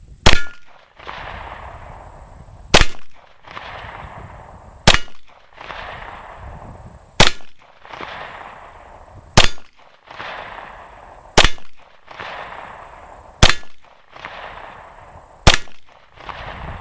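A 9mm pistol firing Winchester 115-grain full metal jacket target rounds: eight sharp, loud shots spaced roughly two seconds apart, each with a short ringing echo, with no one talking.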